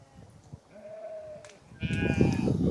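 Sheep in a flock with shepherds bleat faintly: a thin wavering call, then a louder bleat over rustling and shuffling ground noise.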